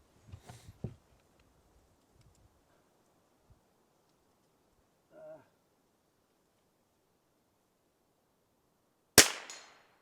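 A precision rifle shot fired from a kneeling position, both knees down: one sharp, very loud crack near the end, with faint rustling and handling noise earlier and a brief soft thump in the middle.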